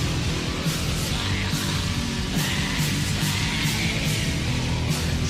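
Dense, punchy electronic drum machine beat with heavy low thumps and hissy high hits, loud and steady throughout with no voices.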